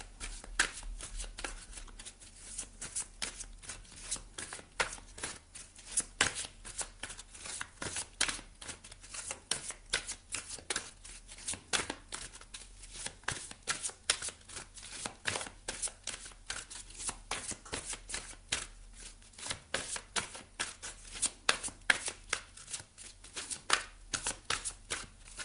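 Oracle cards shuffled continuously for a reading, a steady, fairly quiet riffling and flicking of card stock that goes on without a break.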